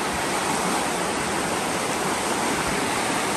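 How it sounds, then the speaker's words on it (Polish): Mountain stream flowing close by in the mountains of Austria, Slovenia or Italy, a loud, continuous rushing wash of water with no pauses. "Jest jakiś taki górski potok."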